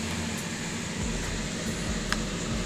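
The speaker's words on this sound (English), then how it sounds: "air scrubber running, pulling negative pressure out." Air scrubber running during mold removal from a dryer vent leak, a steady whooshing fan hum with a low drone, constant and close.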